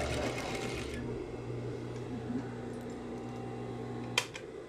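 A sewing machine runs steadily while stitching a dart in fabric, giving a close, continuous mechanical whirring hum that stops abruptly near the end, followed by a brief click.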